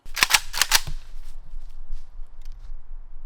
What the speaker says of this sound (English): we're doing 10-inch AK suppressed versus 10-inch AK unsuppressed